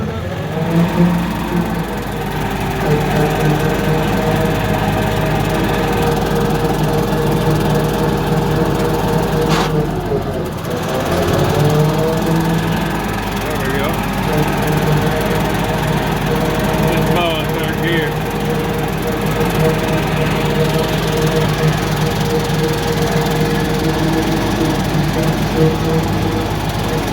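Steady, loud engine drone of a mower cutting a damp chicory and clover food plot, running continuously up close with a brief dip partway through and faint talk under the noise.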